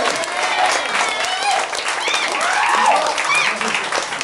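An audience at a live music session breaks into hearty applause, dense clapping sustained throughout, while a voice talks and calls out over it.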